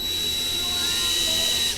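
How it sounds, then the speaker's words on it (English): Electric drill boring a pilot hole through a kart pedal, a steady high-pitched whine running close and loud throughout, with no voices. "center punch this so that the drill bit starts where you want it"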